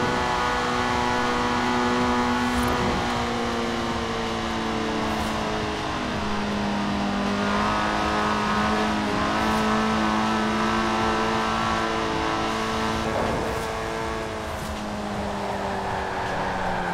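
Tuned car engine in Forza Horizon 4 revving continuously through the gears, rising and falling in pitch with shifts, loud and steady with no talk over it.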